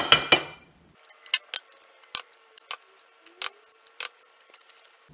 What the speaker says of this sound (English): I have 6 eggs I'm going to crack into my pan.